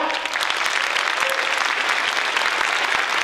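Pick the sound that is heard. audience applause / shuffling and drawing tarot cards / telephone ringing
audience applause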